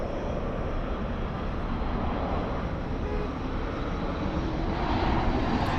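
A distant Emirates airliner passes near Los Angeles airport (LAX), a steady broad jet roar that stays fairly constant and moderately loud throughout with no voices.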